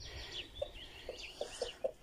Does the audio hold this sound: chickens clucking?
yes